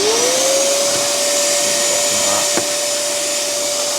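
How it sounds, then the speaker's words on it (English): Hoover vacuum cleaner running while cleaning inside a Vauxhall Corsa work van, a loud steady motor whine rising at start-up then holding constant, with a brief knock of the nozzle midway and no talk. "we'll just soak that up, I think, with the hoover"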